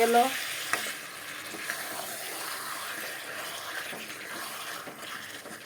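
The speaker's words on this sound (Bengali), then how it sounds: "বন্ধুরা দেখো চিকেনের থেকে তেল ছাড়তে শুরু করে দিয়েছে আমার চিকেনটা কষানো হয়ে" Chicken pieces frying in hot oil in a pan give off a steady, close sizzle, with occasional stirring scrapes and no voices.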